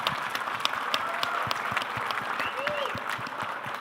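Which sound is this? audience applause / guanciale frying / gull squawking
audience applause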